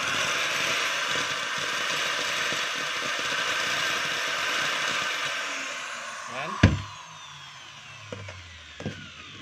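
A DeWalt 13mm hammer drill runs in a steady whirring buzz for several seconds, then cuts out, followed by a sharp clack and short uneven restarts and stops.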